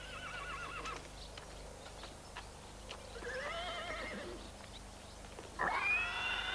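A horse whinnies and neighs several times near a stable, with a louder, longer whinny near the end and soft hoof clops between calls; no one speaks.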